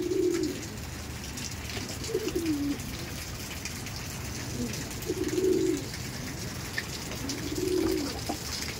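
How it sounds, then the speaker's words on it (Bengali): Punjabi pigeons coo in repeated low, throaty phrases at a steady pace, several calls spaced across the clip over a faint background hiss. "এটা একটা পাঞ্জাবি পায়রা আছে।"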